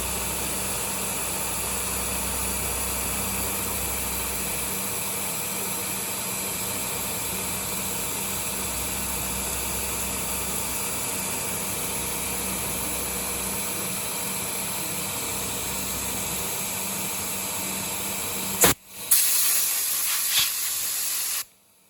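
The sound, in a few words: CNC mill cutting a circular pocket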